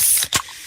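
A freshly opened can of fizzy Pepsi cola gives a short, loud hiss that breaks off briefly and then resumes as a softer fizz, heard alone.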